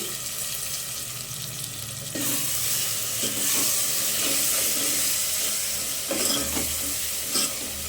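Curry leaves drop into hot oil for a goat offal curry with tomato, and a loud, steady sizzle and crackle bursts up partway through and holds, close by, with scraping stir sounds.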